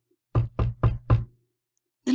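Four quick, evenly spaced knocks on a door, close and solid, followed by a pause before another sound begins.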